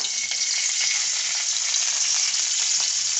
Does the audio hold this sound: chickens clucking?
no